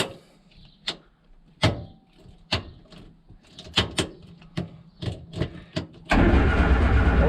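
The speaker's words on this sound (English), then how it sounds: "It turns over. Actually turns over." A Morris Minor car engine cranks and turns over, first with a string of separate mechanical thumps and clicks, then a sudden loud, continuous rumbling roar near the end.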